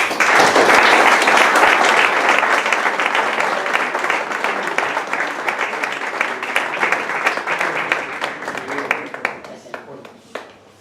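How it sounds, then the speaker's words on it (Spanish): Sustained applause from a crowd at a members' day ceremony for a club and its supporter groups, loud and steady at first, then gradually thinning out toward the end with a few scattered claps. "Un aplauso"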